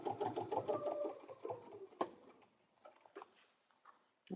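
A sewing machine stitches a paper-pieced butterfly dresser scarf in close, rapid rhythmic bursts, with short pauses, a clunk, and quieter handling sounds of paper and fabric afterward.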